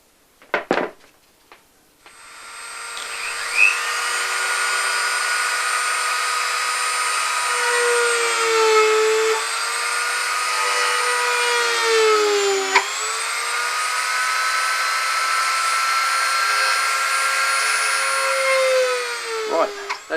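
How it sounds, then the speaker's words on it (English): Power tool drilling rivet holes into a steering wheel under epoxy putty repair, a steady high whine running nearly twenty seconds with pitch dips as the bit loads, after a few brief knocks at the start. "Next thing I'm going to do is start to put in those rivet holes."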